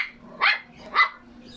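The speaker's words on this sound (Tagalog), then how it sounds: "Ayan ang maingay na aso." A noisy dog barks twice at a household feeding time, two sharp, fairly close barks about half a second apart over a quiet background with a faint steady hum.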